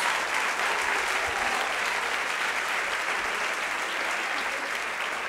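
A church congregation gives loud, dense applause in worship, a continuous wash of many hands clapping at full strength with no pauses or voices standing out.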